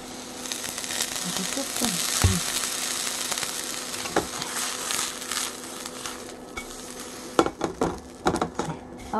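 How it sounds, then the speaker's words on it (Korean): Mugwort pancakes fry in an oiled pan with a steady, close sizzle, broken by occasional clinks and scrapes of a utensil against the pan. "네, 숙전이 잘 구워지고 있네요."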